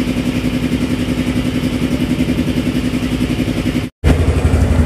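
A vehicle's engine labouring up a steep slope in second gear, a loud, steady, throbbing drone close by that cuts out briefly near the end before resuming.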